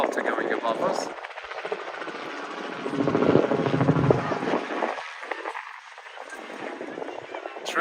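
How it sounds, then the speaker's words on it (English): A helicopter's rotor chops loudly overhead above the Luis I Bridge in Porto, a dense rhythmic thudding that swells and eases, with a voice speaking over it. "There's a helicopter going above us."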